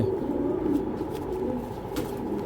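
Red checker pigeons, about two years old, coo in low, steady murmuring tones that run continuously and fairly close, with no talk over them.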